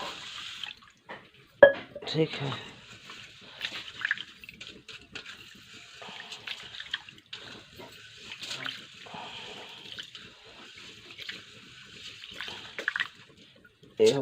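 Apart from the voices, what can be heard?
washing rice in water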